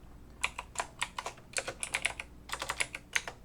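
Brisk typing on a computer keyboard in quick irregular bursts of close, crisp key clicks with brief pauses between runs, no voices.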